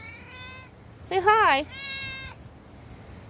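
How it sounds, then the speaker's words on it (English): A male cat meows insistently for attention: a long, wavering, loud meow in the middle, framed by human voices speaking close by. "My cat is really wanting some attention."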